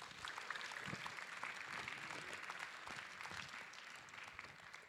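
Dense applause from a festival crowd, many hands clapping steadily at moderate distance, sustained for several seconds and slowly fading at the end.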